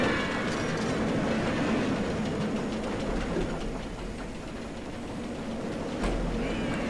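An empty roller coaster train in the video game Roller Coaster Tycoon 3 rumbles steadily along its track with a continuous roar and faint rattling clicks, loud and close throughout.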